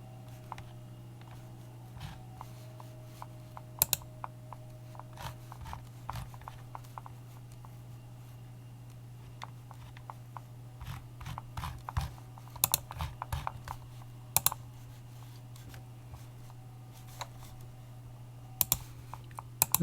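Sparse, irregular key clicks from a computer keyboard, faint and close, with scattered single taps and short bursts over a steady low hum.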